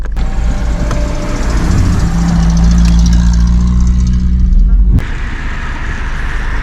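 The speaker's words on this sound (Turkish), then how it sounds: "Şu anda arkamdan bir tane jip geliyor." A jeep engine coming up from behind on a snowy mountain road, a loud low rumble that builds and holds before cutting off abruptly, with wind buffeting and a voice speaking over it.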